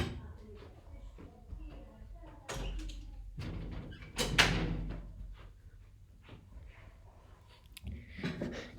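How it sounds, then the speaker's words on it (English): Indoor doors are shut, giving a couple of solid thuds and knocks among shuffling movement, with a person talking nearby. "I need to close the doors"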